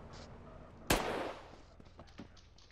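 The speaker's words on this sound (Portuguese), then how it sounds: "Tentei dar um tiro no pneu." A single loud gunshot is fired at a car tire in GTA MTA RP. The shot cracks sharply and rings into a fading tail, set against quiet game background noise.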